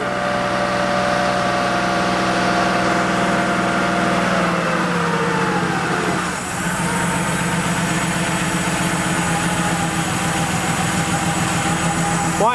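A Porsche 3.2 Carrera flat-six idles steadily and smoothly, its low continuous rumble holding close and even, with a brief pitch dip midway as the idle settles lower.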